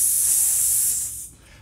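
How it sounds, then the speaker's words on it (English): Relief valve on a keg coupler releasing excess CO2 pressure, a loud steady high hiss lasting about a second before cutting off abruptly. "pull the relief valve on your coupler to release any excess pressure inside the keg"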